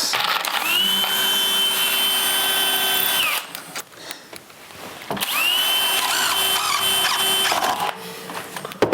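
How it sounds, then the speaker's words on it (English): Electric drill boring into hard maple while building an indoor ladder: two loud sustained whirring runs with a steady high whine, split by a short gap of clatter and handling noise. "It's amazing how hard that maple is on drill bits"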